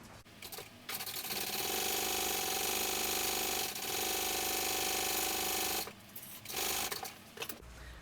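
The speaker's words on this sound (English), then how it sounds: "sewing this on" A sewing machine stitches a zipper panel onto a sling, running in one long steady burst after a brief start, then stopping and starting again in short runs, close and loud with no talk.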